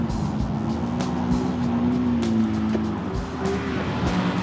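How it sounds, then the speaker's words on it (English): A Japanese sports car engine drones steadily under throttle with a rising, wavering pitch, loud and close, with a rough background rush and no talk. "Punch the throttle. Starts to come round. Now more throttle to hold it."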